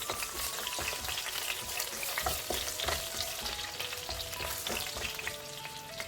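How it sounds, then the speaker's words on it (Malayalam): Almonds roast in ghee in a kadai, giving a continuous close sizzle and crackle with scattered spitting pops and faint stirring, no talk. "ഇനി നമുക്കിതിലേക്ക് കുറച്ച് ബദാം പരിപ്പിട്ടൊന്ന് വറുത്തെടുക്കാം."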